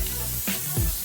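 A spray can lets out two quick, close hisses in about a second, aimed inside a box being decorated.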